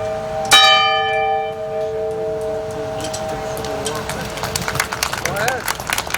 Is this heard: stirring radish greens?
no